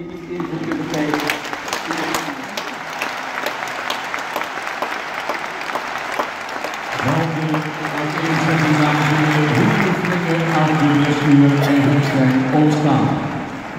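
Sustained warm applause from an audience after a lecture on horsemanship, dense clapping that swells louder in the second half and continues steadily to the end.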